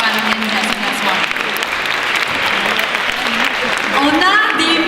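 An indoor audience claps loudly at a fashion show evening, dense continuous applause with cheers mixed in, lasting throughout.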